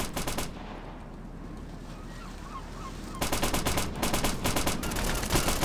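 Rapid rifle gunfire crackles in a military shooter, Operation Flashpoint: Dragon Rising, first a short burst, then after a lull a sustained string of close, loud shots continuing to the end.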